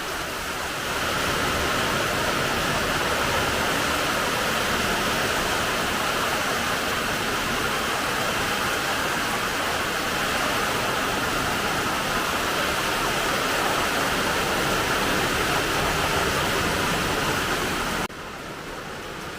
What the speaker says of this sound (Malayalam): മഴ മാത്രമല്ല, കാറ്റും ഉണ്ടല്ലോ.